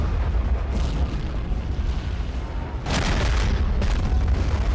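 Artillery firing in the war game Army Men of War: booming blasts ring out, one near the start and two heavier ones late, over a constant loud rumbling battle background.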